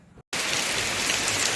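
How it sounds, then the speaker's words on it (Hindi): A heavy downpour of rain bursts in after a brief silence, a loud, dense, steady hiss of drops pounding surfaces close by, with no voices. "और देखिए मूसलाधार बारिश शुरू हो चुकी है।"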